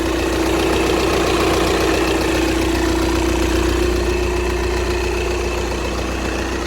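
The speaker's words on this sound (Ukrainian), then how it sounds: "Якби двигун працює рівненько." A 2013 Volkswagen Passat B7 R-Line 2.0 TDI diesel with DSG idles steadily up close, a continuous even low hum and clatter running alone throughout without speech.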